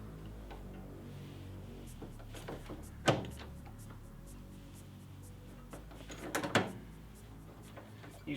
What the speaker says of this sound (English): I'm using this rivet gun right here. It's just a standard rivet gun